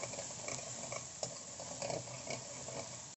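Chopped onion, ginger and bay leaf frying in hot oil in a pan, a soft steady sizzle broken by light scraping and stirring knocks, close and fairly quiet with no talking.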